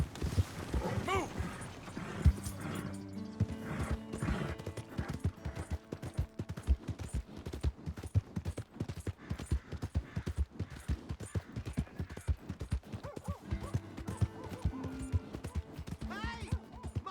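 Horse hooves clip-clop steadily in the video game Red Dead Redemption 2, a rapid galloping rhythm with clattering effects and occasional game music, mixed with talk.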